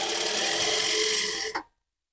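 A sewing machine with a single presser foot runs steadily, stitching piping cord onto organza lace for a neckline, with a continuous whirring hum for about a second and a half before stopping abruptly.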